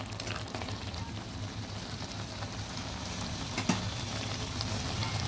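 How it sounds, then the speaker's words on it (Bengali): Taro leaf greens cooking down with a fish head in a pan, giving a steady, dense, close sizzle like rain that holds level throughout, with one brief clink partway through. "এবার ভালোভাবে কষিয়ে নেব।"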